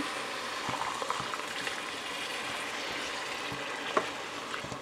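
Water pours into a hot cooking pot of rice and meat for Sylheti akni, making a steady close hiss and bubbling sizzle throughout, with a few faint clinks and no speech.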